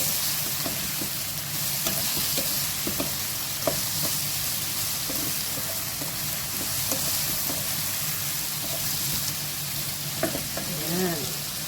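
Squash simmering in coconut milk in a pan for ginataang kalabasa, a continuous bubbling sizzle with scattered scrapes and knocks of a stirring utensil against the pan.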